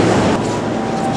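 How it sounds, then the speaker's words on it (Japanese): Loud, continuous rumbling and clatter of a train going by close at hand, filling the whole short stretch. "電車の音がちょっとうるさくてすいませんでした"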